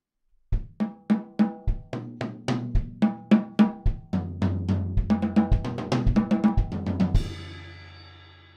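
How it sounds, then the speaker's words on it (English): A drum kit is played in an L-shape kick, left, right, left pattern: a run of sharp, evenly spaced close hits that speeds into denser strokes and ends on a ringing cymbal crash. "So the L shape in that kick left, right, left context would sound like this."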